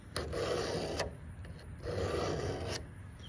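A knife blade is drawn along a Sharpal 210N sharpener rod in two long, even rasping strokes about a second and a half apart, close and steady with no voice.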